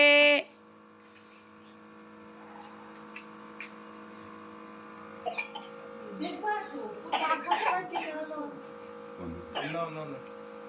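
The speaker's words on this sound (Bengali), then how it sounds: "বাবা আবার কাশি।" A man coughs a few times in a home, the coughs bursting out loud and close through steady mains hum, with a voice heard briefly.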